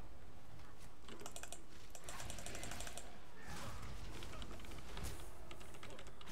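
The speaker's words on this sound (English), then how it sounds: "Colby's typing in the chat." Rapid bursts of clicking from a computer keyboard, in uneven runs with short pauses, heard close over a low background hum.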